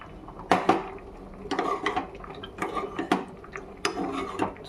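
Cornflour mixture being stirred into milk in a pot for homemade kulfi, with irregular clinks and scrapes of a utensil against the pot, close and fairly quiet.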